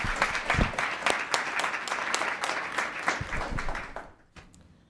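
Applause from a town council meeting audience fills the room with dense, steady clapping for about four seconds, then thins out and stops, leaving a few scattered claps near the end.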